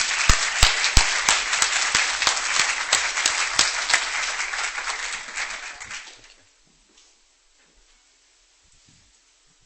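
Lecture audience applauding to welcome a speaker, steady clapping from a crowd with a few sharp louder claps standing out, lasting about six seconds before falling to near silence.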